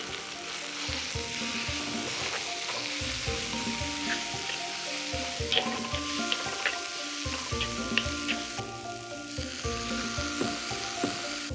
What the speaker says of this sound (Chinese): 蒜香已经出来了，咱们把这个饼丝倒进去